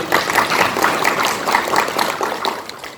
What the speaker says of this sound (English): Please give them a round of applause to bring me here.